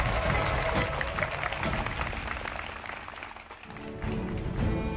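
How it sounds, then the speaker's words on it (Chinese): An audience at a Chinese crosstalk comedy competition claps and cheers in a dense, sustained burst of applause that dips briefly before swelling again. "掌声有请"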